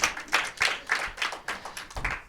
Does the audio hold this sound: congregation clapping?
yes